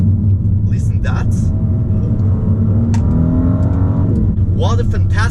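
A new BMW M car with a twin-turbo V6 and 370 horsepower rumbles loudly up close, its exhaust revving with a couple of rising sweeps over a deep steady idle, with short bursts of voices in the background.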